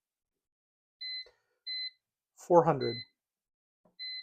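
An air fryer gives short, clear electronic beeps as its temperature is set, a steady rhythm of single tones spaced about half a second apart, with someone speaking briefly between them.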